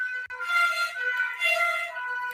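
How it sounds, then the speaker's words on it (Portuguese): Fire engine siren passing by, a harmonic wailing tone that rises and falls in pitch, moderately loud and alone with no voices over it. "Só um pouquinho tá passando os bombeiros."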